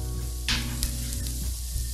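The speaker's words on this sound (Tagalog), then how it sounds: "Dito naman sa pagluto ng sibuyas, kailangan natin antayin na maging translucent" Sliced onions sauté in oil until translucent, a brief steady sizzle heard close, with a couple of sharp scrapes of a spoon in the pan.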